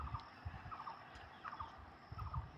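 Turkeys give repeated gobbling calls in short rattling bursts, fairly faint and a little distant, several calls overlapping in an outdoor setting with no talking.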